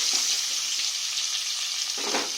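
Papaya and potato pieces fry in a pan with turmeric and salt, giving a steady close sizzle with soft scraping stirs near the start and end, no voices.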